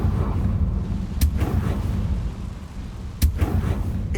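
A Confringo fire spell blast in Hogwarts Legacy, two sharp cracking bursts a couple of seconds apart over a dense low rumbling background, each followed by a short fiery roar.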